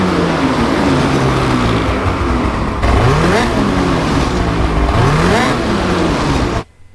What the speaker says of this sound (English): This thing is super quiet. I mean, this is a 900cc big bore two-stroke